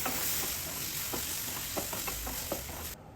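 A spoon stirs coriander into a pineapple curry for an Onam sadhya. It makes soft rhythmic scraping taps over a faint, steady sizzle and hiss, and the sound ends abruptly.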